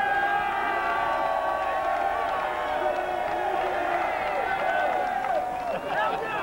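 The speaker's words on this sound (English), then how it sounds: "Let me see if I can get a cheer by holding it up." A crowd of Boston Red Sox fans cheers and shouts as the championship trophy is held up, a continuous loud roar of many voices with whoops rising and falling, close and dense.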